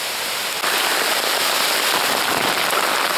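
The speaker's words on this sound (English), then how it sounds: "at least I'm not gonna get run over out on the road in the heavy wind and rain" Heavy rain and wind in a thunderstorm roar steadily around a roadside camp, a dense, loud hiss of drops pelting a surface without letup.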